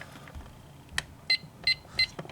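A fire alarm annunciator, keyed to its locked off position, gives three short, evenly spaced electronic beeps at close range, with faint handling clicks between them.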